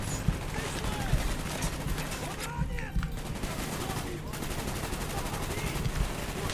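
Continuous automatic gunfire in Call of Duty: Black Ops, rapid close bursts rattling through the whole stretch with sustained battle noise and occasional sharper reports.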